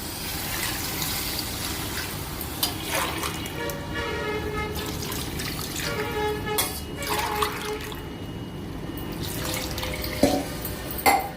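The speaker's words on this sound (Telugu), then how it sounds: "ఓ 3 గ్లాసులు వాటర్ పోస్తున్నానండి" Water is poured into a pot of Andhra-style spiced goat mutton curry, producing a steady running, splashing pour close by for several seconds, with a few brief clinks near the end.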